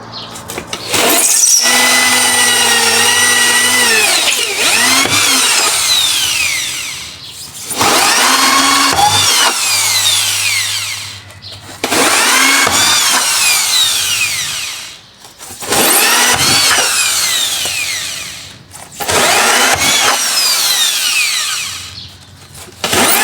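A power drill bores holes into a foam box for growing hydroponic lettuce, close and loud in five long bursts of whining, rising and falling pitch separated by brief pauses.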